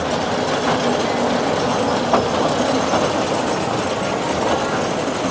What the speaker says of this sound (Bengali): দেখুন সে রেলের বিভিন্ন ইঞ্জিনের পাশ দিয়ে দিয়ে চলেছে আমাদের টয় ট্রেন।